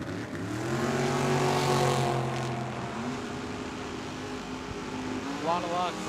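Drag racing cars launching at Tucson Dragway, a Plymouth Arrow against a gray dragster, roar with high-revving engines whose pitch climbs steadily. An announcer talks over the noise throughout.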